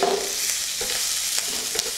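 Ginger garlic paste and green chillies for samosa filling fry in a pan, loud and close, a bright continuous sizzle broken by a few quick stirring scrapes.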